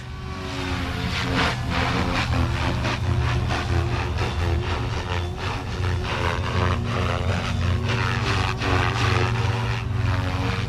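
Small RC helicopter on idle up 1 at a 70% throttle curve, with a steady, high-pitched motor whine and rapid rotor chop holding loud and constant throughout.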